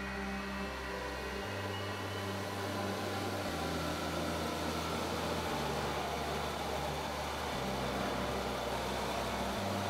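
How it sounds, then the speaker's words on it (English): Electric motor starting through an Altivar ATS480 soft starter, a steady loud hum with stepped low tones shifting every couple of seconds and a broad whirring whine rising gradually as it spins up. "The motor is starting."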